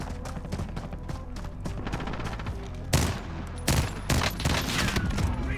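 Rapid bursts of gunfire from a shooter video game, dense automatic fire with several sharper, louder shots near the end, continuous with no talking.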